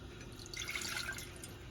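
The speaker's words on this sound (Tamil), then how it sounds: "ஒரு டம்ளர் தண்ணி விட்டுக்கிறோம்" Water is poured into a pot for Indian masala chai, a soft trickling and dripping splash close by and fairly quiet, continuous for a couple of seconds with no talking.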